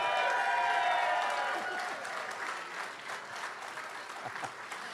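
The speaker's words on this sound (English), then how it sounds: "She's clapping, too." Applause and clapping from a crowd after a primary-night political speech in Kentucky, loud and dense at first, then thinning to scattered claps and faint voices.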